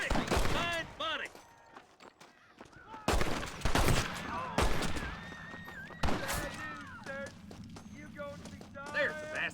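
Gunfire in a Red Dead Redemption shootout, with scattered shots and bursts among hoofbeats and shouting voices, loud in places with gaps between volleys.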